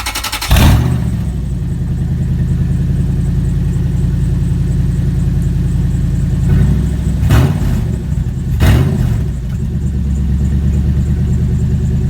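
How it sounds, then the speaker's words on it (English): A loud, raw Toyota Tundra (2000-2006) engine runs without exhaust beyond two catalytic converters, idling with a deep rapid throb, blipped into sharp revs three times before settling back to its rough idle. "Here's what it sounds like without exhaust."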